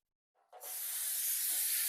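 Pam cooking spray hissing onto a disposable pan for apple crisp, a single continuous spray starting after a short silence and holding steady, close and clear.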